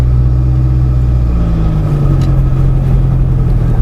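A car engine drones low and steady while driving over soft, moist sand dunes through mallee scrub on Googs Track, the pitch shifting slightly midway as it labors, loud and close with no voices.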